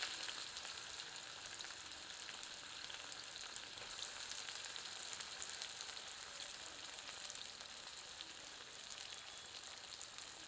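Onions fry in oil over high heat while being stirred slowly with a ladle, giving a faint, even crackling sizzle that holds steady throughout with no voices.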